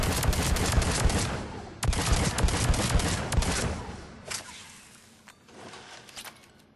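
A Phalanx pistol in Mass Effect 3 fires while aimed down the sights, making loud, sharp repeated gunshots in clustered volleys, then a few more spaced shots that trail off quieter.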